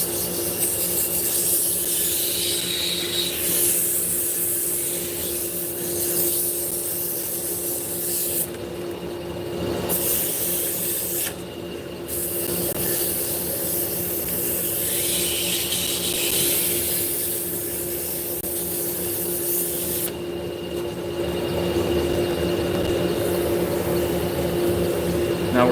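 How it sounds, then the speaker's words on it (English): A power sander run at reduced speed over wood with 110 to 120 grit paper, producing a steady, loud, continuous whirring abrasion across the whole stretch, with brief shifts in tone as pressure changes and no voices. "we're going to sand it out. Turn the speed down"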